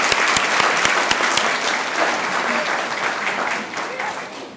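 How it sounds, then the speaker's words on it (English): Applause fills a city council meeting chamber, a steady wash of many hands clapping with a few sharp, close claps at the start, gradually thinning toward the end, with faint speech beneath. "let's give them another round of applause"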